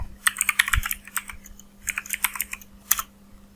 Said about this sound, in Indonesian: Nah di sini kita ketikkan